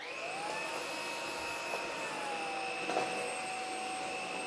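A Dreame Z10 Station cordless vacuum cleaner runs steadily with a whining motor tone that shifts pitch slightly, moderately loud and close, with no talking.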